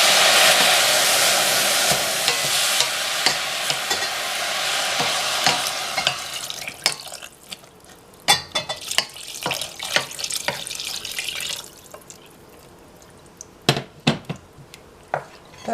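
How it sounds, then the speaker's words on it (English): Water is poured into a hot pot of oily, buttered bread for garlic bread soup, giving a loud sizzling gush for several seconds that gives way to quieter stirring clinks and scrapes, with no voices. "The next step is we're going to stir in the water."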